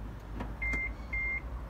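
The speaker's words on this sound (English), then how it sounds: "you hear the beep, suggests it's connected" Two short, clear electronic beeps from an electric vehicle charger as a Type 1 connector is plugged in, evenly spaced, over a low steady background hum.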